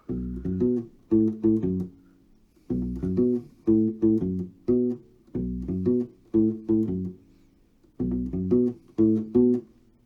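A U-Bass plays the simplest form of a funky groove: short, plucked low notes in repeated syncopated phrases with brief gaps between bars, played solo with no talking.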